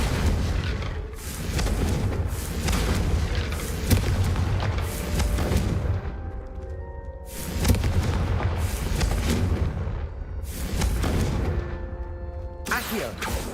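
Repeated Confringo blasting-spell explosions in Hogwarts Legacy, several booming blasts a few seconds apart, loud and close, with a continuous low rumble and game music between them.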